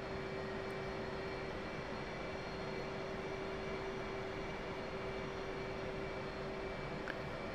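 A jet engine on an aircraft carrier deck in the DCS flight sim drones as a steady, faint turbine whine and rumble with a constant tone, unchanging throughout and without speech.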